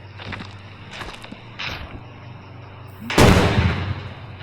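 Gunfire in the mobile game Indian Bike Driving 3D: a few faint, scattered shot-like pops early on, then one loud, broadband blast with a decaying tail near the end.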